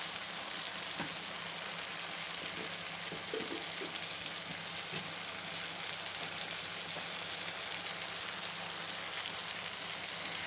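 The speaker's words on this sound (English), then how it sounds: "So this is our sauteed mushrooms, potatoes, and carrots with red paprika and onion." Mushrooms, potatoes, carrots, red paprika and onion sauté in a hot pan, giving a steady close sizzle with a few soft clicks of stirring.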